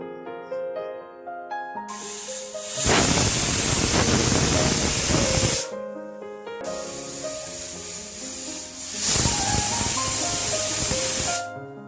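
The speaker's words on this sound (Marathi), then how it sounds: "आता आपल्याला कुकरला झाकण लावून 4 ते 5 शिट्या करायच्या आहेत." A pressure cooker cooking dal khichdi lets out two long, loud hissing whistles, each lasting a few seconds, separated by quieter stretches with a soft tonal hum.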